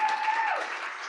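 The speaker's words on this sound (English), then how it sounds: "let's clap for that." Audience clapping at a Gates Foundation Den Talk, a steady wash of applause that holds at an even level for about a second, with a held tone fading under it.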